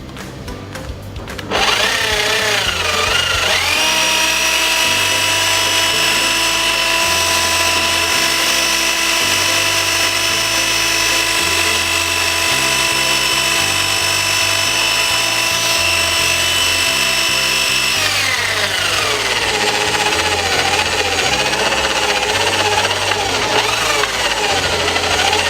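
A Hilti DD150 core drill spins up and runs at a steady, loud, high whine, holding its pitch for a long stretch before winding down, alone without talking.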